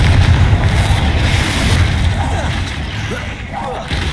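Booming blasts from the Confringo spell in the Hogwarts Legacy video game, loud and dense with rumbling low end, heard amid chaotic game combat noise.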